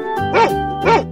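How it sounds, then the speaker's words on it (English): A dog gives two short barks in quick succession, loud and close, each one sharp and bright. "Dog."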